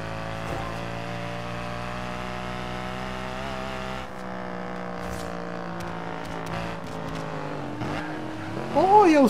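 A fast car in the racing game Forza Horizon 2 drives with a steady, buzzing engine tone that shifts pitch as it accelerates, ending in a brief tire squeal, heard alone at moderate volume.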